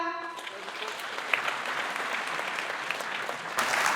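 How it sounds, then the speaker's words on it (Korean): Sustained applause from a crowd at a construction workers' union general assembly, a dense, even patter of many hands clapping in a hall, briefly preceded by a voice and swelling slightly near the end. "힘찬 박수 한번 보내주십시오."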